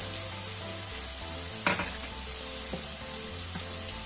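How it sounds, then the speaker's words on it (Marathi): Masala and green peas sautéing in a pan for methi matar malai, a steady close sizzle with a few brief scrapes of the spatula stirring through, no voices. "आता हा मसाला असा छान मऊ होईपर्यंत, मटर मऊ होईपर्यंत असं परतत राहायचं."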